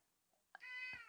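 A single cat meows behind a closed door, one clear drawn-out cry rising out of a quiet room, fairly close and unaccompanied.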